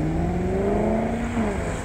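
A rare M390 car's engine revs close by, its tone climbing and then easing back in a single smooth sweep, loud and steady with no talk over it.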